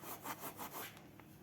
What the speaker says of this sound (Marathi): थोडासा ओवा घालायचा आहे हातावर चोळून.